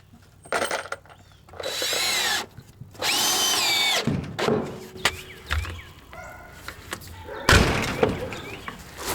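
A power drill driving screws into mobile home siding, with several whirring bursts of a few seconds each, close and loud, mixed with knocks, clinks and thuds between runs.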